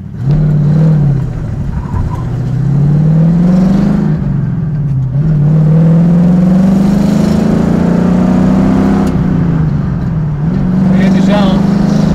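A 1968 Ford Mustang GT engine pulls hard in second gear on a road, its loud, close drone rising in pitch in repeated sweeps, with short dips between pulls.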